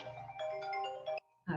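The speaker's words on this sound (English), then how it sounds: "I apologize for that phone." Phone ringtone going off during an online awards event, a short melodic electronic jingle of several bright notes that breaks off and restarts briefly, heard at moderate level with speech nearby.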